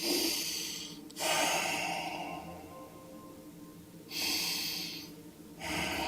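Slow, deep yoga breathing close to the microphone, with long airy inhales and exhales alternating in an even rhythm and no talking.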